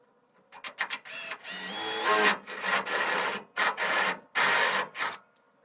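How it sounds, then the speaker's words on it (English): A power drill bores a hole in steel while fitting a huge front-mount intercooler on a 1JZ-swapped Nova, grinding in several loud bursts separated by short pauses, alone and close. "And time to drill the second hole."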